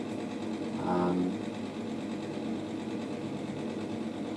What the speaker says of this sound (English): I know that the extractor fan is super loud